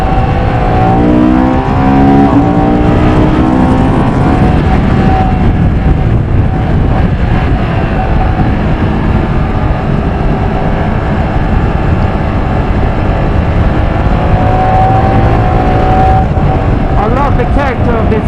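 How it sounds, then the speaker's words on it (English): A Moto Guzzi Mandello V100 S sports tourer's engine drones steadily while it is ridden, a loud continuous rumble with slowly shifting pitch. Wind noise runs through it the whole way and no one speaks. "The character of this engine, you can feel that you're riding something special."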